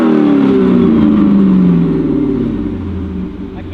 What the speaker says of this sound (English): I can't tell if that's a rod loose or an exhaust rattle.